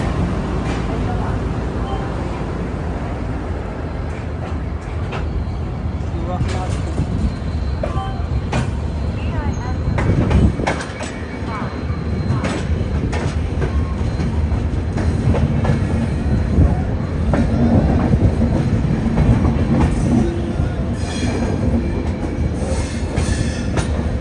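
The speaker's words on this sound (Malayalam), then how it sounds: "10:52 ഗുവാഹത്തി റെയിൽവേ സ്റ്റേഷനിൽ ഇതാ ട്രെയിൻ എടുത്തിരിക്കുകയാണ്" The Vivek Express pulling out of Guwahati railway station and running, a loud continuous rumble of wheels and carriages with rhythmic clacks and occasional squeals, and voices talking in the background.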